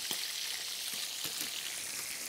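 Pork frying in a pan for a Swedish pork-and-onion-sauce dish gives a steady, bright close-up sizzle with a few soft clicks and pops.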